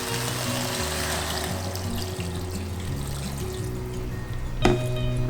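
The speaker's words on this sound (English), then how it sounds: "And add some filtered water." Filtered water pours into a cooking pot holding cashews and baby carrots, a steady splashing trickle with a shifting low bubbling tone that lasts throughout, ending in a brief clank near the end and no speech.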